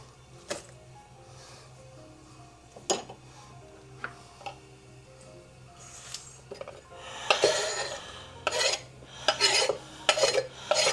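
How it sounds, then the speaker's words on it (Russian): Food is moved back into a bowl with a utensil, giving sparse clinks and scrapes at first, then a denser run of rough scraping and rubbing strokes near the end, close by with no speech. "сейчас перенесу обратно в миску."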